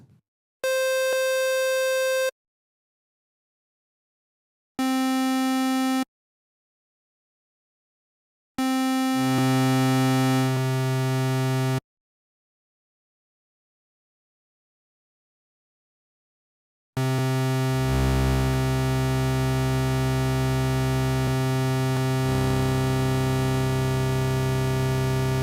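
Software synthesizer with three oscillators, two filters, an amplifier, LFO and envelope: a series of sustained buzzy tones played in short separated bursts with silences between, then a long thick sound with the filter moving, loud and with no talking.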